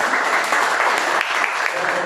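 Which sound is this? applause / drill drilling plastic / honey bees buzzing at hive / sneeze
applause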